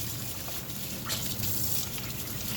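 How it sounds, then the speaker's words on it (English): Tap water running in a steady, close trickle while hands are washed, a continuous soft splashing with no talking over it. "let me just wash my hands real quick"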